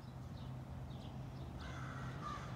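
Crows caw in a garden, a few faint, distant calls over a steady low background hum.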